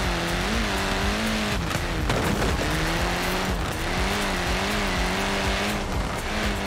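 Loud, continuous engine roar of a modified car in the racing video game Forza Horizon 4, revving and wavering as it drifts, with tire squeal and skidding under it throughout and no talking.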